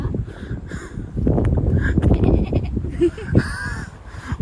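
A person's voice mimics a goat's bleat with wavering, nasal cries over lively background chatter, followed by a higher quavering bleat near the end.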